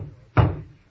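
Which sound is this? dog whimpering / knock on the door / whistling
knock on the door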